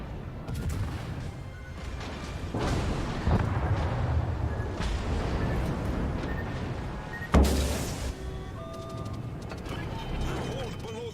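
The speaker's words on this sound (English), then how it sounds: "Now I've managed to eat a torpedo as well." A torpedo strikes a warship in World of Warships, a heavy explosive impact standing out over a steady rumble of naval battle and someone speaking.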